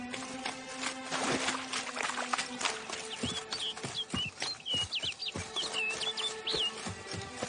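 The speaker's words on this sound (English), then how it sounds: "Looks like the bird's leading me somewhere." A bird calls repeatedly in a video game, sharp chirps and clucking notes scattered over clicks and ambient game sounds, fairly close and continuous.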